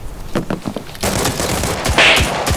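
Rapid bursts of automatic gunfire in the video game Arena Breakout: Infinite, a sparse volley followed by dense sustained firing, loud and close, with no voices.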